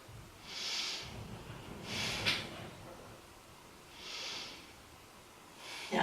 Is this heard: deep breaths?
yes